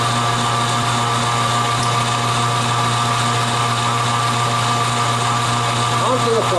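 A power drill whines continuously and loudly, pre-drilling into a pine log with a constant motor hum throughout.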